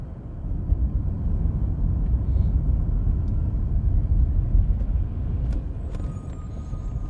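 A big digger truck rumbles past on a road in a steady low roar heard from inside a moving vehicle, with a few faint clicks and squeaks near the end.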